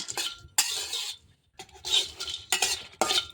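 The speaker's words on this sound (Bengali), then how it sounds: "এভাবে নাড়াচাড়া করতে হবে যতক্ষণ না এটা ভাজা হয়" Beet salt with dried chilies and garam masala is stirred in a pan, a spoon scraping and rasping against the metal in short bursts separated by brief pauses, close and clear with no talking.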